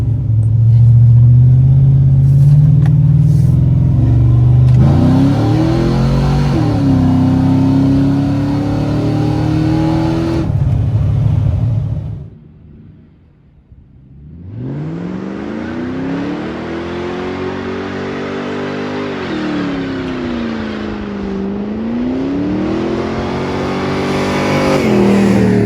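A cammed Ford Mustang engine revs hard and pulls through first and second gear. Its loud, throaty roar climbs in pitch, breaks off briefly at the shift, then builds again close up.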